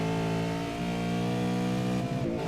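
V8 race cars at Bathurst roar past in a loud, steady, sustained engine drone with shifting revs, close and continuous throughout.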